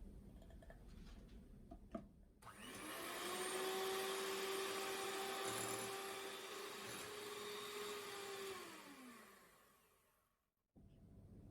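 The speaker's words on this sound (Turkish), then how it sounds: "2 yumurta sarısını kabartmış olduğumuz beyazı ekleyip tamamen karışana kadar çırpmaya devam ediyoruz" An electric hand mixer whisks beaten egg whites with two egg yolks for a tiramisu cake batter. It gives a steady motor whine for about eight seconds, then winds down and stops, with quiet kitchen noise before and after.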